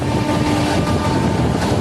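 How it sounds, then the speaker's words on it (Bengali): A passenger train bound for Prayagraj Junction rushes along at about 130 km/h, giving a loud, steady roar and rumble with faint rail clatter heard from inside the carriage. "আমাদের ট্রেন একশো উনত্রিশ কিলোমিটার তিরিশ কিলোমিটার গতি বেগে সামনের দিকে এগাচ্ছে"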